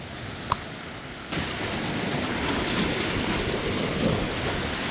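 Rough water churns and slaps steadily on a fishing outing after rain, a constant broadband wash of waves and wind noise with a single sharp click near the start.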